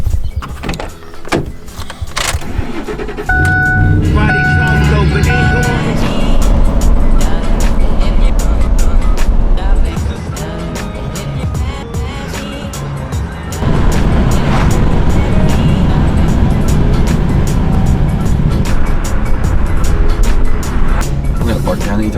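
A right-hand-drive BMW E36 car drives on the road, with a steady, loud engine and road drone inside the cabin, surging between gears, and a person talking over it at times.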